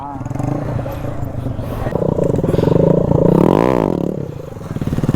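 A Bajaj Pulsar NS200 with an altered silencer idles and revs, its close, loud exhaust rising and falling in a throaty, pulsing drone.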